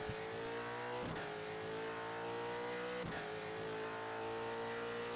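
A V8 race car engine in a racing video game holds steady at high revs, a loud continuous drone held flat out in sixth gear with two brief dips at about one and three seconds.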